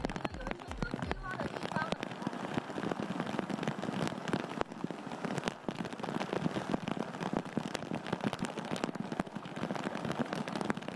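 Heavy rain in southern Taiwan, amid flooding in residential areas, pours down as a dense, loud, unbroken patter from start to finish, with voices underneath.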